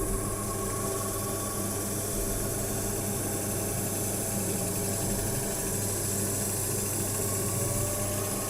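A DC generator runs steadily on a laboratory test bench while its voltage is gradually raised, giving a continuous mechanical whir with gear-like ratcheting and a steady electrical hum, close and unbroken, with no talking.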